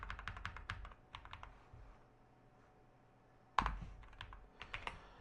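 Rapid clusters of keyboard keystrokes on a computer keyboard, close and fairly quiet, coming in bursts with a short pause and then a sharper clack before typing resumes.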